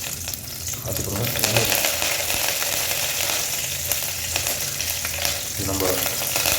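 Curry leaves crackle and sizzle in hot oil in a pan for a village-style chicken pulao, a steady dense frying hiss with occasional stirring scrapes, close and continuous.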